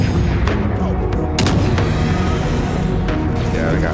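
A heavy new weapon fires at a mech in the video game The Forever Winter, booming blasts over dense rumbling battlefield noise and constant low roar, with a few sharp impacts standing out.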